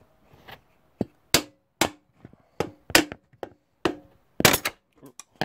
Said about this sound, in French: un petit coup de tournevis et un petit coup de marteau